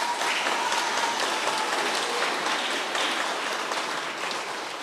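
Applause from the audience at a junior school graduation ceremony, a steady wash of many hands clapping at moderate loudness that fades slightly toward the end, with no talk.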